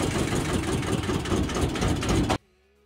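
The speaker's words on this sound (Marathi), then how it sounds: "तर आपली बोट चालू झालेली आहे" Boat engine running loudly and close on the Koyna dam backwaters, a steady heavy rumbling drone that cuts off abruptly near the end, leaving near silence.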